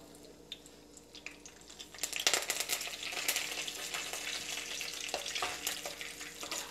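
Curry leaves dropped into hot oil in a pan while cooking tomato rice, bursting into a sudden loud crackling sizzle that settles into steady spitting and popping.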